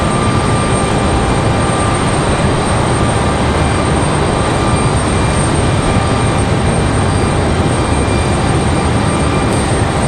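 A United airliner takes off from the runway at Raleigh-Durham International, a loud, steady broadband engine roar that fills the scene without letting up.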